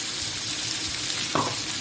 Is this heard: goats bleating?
no